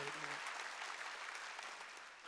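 Congregation clapping steadily through a Korean church Wednesday worship service, a dense, sustained wash of many hands filling the hall from start to finish.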